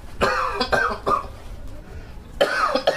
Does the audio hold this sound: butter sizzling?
no